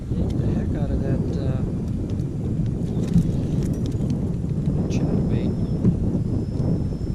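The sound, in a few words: wind blowing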